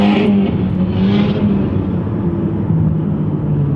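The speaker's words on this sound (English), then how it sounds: "he was like revving his engine" A car engine revving loudly at a traffic light, heard from inside a nearby vehicle as a close, sustained low roar with rising and falling pitch, no talk over it.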